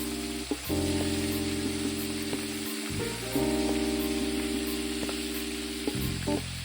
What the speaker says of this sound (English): flip the shrimp over and cook the other side